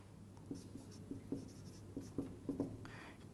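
Hand writing of a symbol, likely pen or chalk on a board: a handful of short scratching strokes in an uneven rhythm, quiet and close, with no speech over them.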